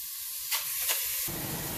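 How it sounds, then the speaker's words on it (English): Beef cheeks hitting a hot pot and searing, a sudden close sizzle that bursts in after a quiet moment and keeps hissing steadily to the end. "Are you ready for the first sound of a sear when it hits the pot?"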